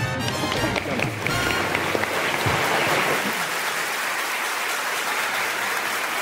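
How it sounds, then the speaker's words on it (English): Audience applause at an evening gala honoring environmental heroes: a broad, steady roar of many people clapping fills the room. A voice is faintly heard at the start beneath it. "So I applaud you, sir."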